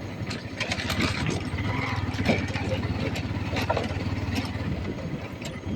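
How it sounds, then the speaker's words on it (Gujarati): A mid-pitched tractor engine chugs steadily at a low, even rhythm, fairly close, approaching from above near Willingdon dam, Junagadh, with faint voices in the background. "અહીંથી ઉપરથી ટ્રેક્ટર આવે છે દોસ્તો"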